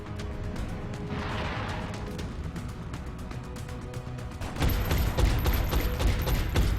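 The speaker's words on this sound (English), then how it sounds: "Looks like our heavy cannon clipped him." Heavy cannon and rapid gunfire in the XCOM: Long War video game, a dense, continuous volley of shots that grows louder and harsher in the final seconds, with no talk over it.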